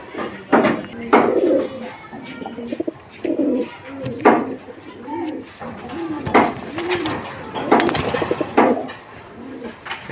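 A male coloured golla pigeon coos repeatedly in a pigeon farm, a series of close, soft rolling coos in uneven bursts with small knocks and rustles between them.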